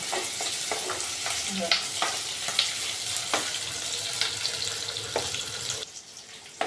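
Onions sautéing in a pan for a fish curry, sizzling and frying steadily with repeated stirring scrapes and clinks of the utensil throughout, fairly close, with no talk.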